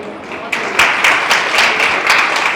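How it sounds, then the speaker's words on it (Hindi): Audience at a teachers' event in Ludhiana claps together, a dense broadband patter that swells after a quieter start and holds steady with loud individual claps standing out. "ये तालियां रिकॉर्ड करके अपनी कंपनी को भेजो।"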